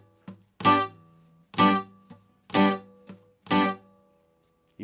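Reggae-style muted upstrokes brushed across the bottom three strings of a guitar, four short sharp chops on the offbeat with small ghost scratches between, close and clean.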